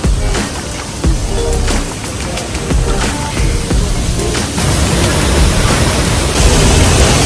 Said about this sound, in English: we are here at the final point of Tibumana waterfall